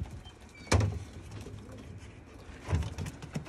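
Breeder pigeons in a loft give two low, soft coos a couple of seconds apart against quiet room background.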